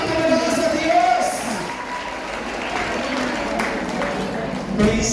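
Steady applause from a crowd at a Catholic church seminar, mixed with cheering and scattered voices, loud and continuous, with a brief louder swell near the end.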